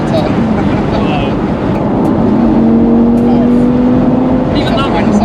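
An Audi R8 V10 Spyder engine accelerating hard and pulling strongly through the revs, with a loud, rising tone that climbs through the gears. The engine note stays close and dominant.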